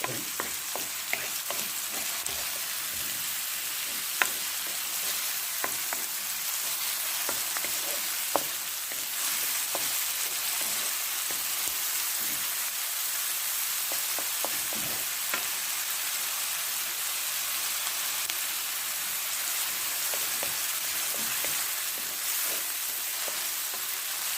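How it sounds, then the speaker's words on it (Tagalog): Onion and garlic frying in oil until browning, a steady dense sizzle with occasional small pops and crackles throughout, close and continuous with no talk. "Medyo mag-brown yung sibuyas at saka yung bawang."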